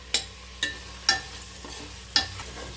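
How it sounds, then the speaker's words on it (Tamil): Onions and tomatoes are sautéed in oil for biryani, a low, constant sizzle broken by several sharp scraping strikes of a spatula against the pan at uneven intervals. "எண்ணெயில் நல்லா வதங்கி அப்படியே அந்த எண்ணெய் பிரிஞ்சு வரணும்"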